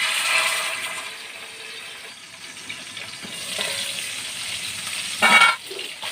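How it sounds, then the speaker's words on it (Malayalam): Fish frying in a pan for a green-peppercorn fish pollichathu, a steady close crackling sizzle with a louder burst of spitting near the end, no talking. "അപ്പം നമ്മൾ വറക്കാൻ വെച്ചിരുന്ന മീൻ നമുക്ക് ഇതിനകത്തോട്ട് പറക്കിയിടാം"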